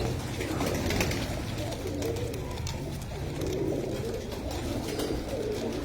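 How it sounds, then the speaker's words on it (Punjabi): Steady low cooing from a black sheena pigeon, a continuous soft burble repeating throughout, with light chatter and rustling from other birds nearby. "ਕਾਲਾ ਸ਼ੀਨਾ ਕਬੂਤਰ"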